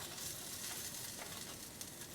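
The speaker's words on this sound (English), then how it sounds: "So you can hear it sizzle." Cheese sizzles steadily in a hot pan where it has dripped off a tortilla while a pizza-quesadilla cooks, a quiet, even crackle with no voices over it.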